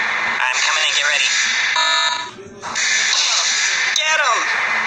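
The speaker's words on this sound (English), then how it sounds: "Once I get close, though, they'll probably raise the alarm." Alarm raised in a stickman stealth escape game, a loud continuous electronic buzzing tone with stacked harmonics that drops out briefly mid-clip and then resumes, alongside game sounds.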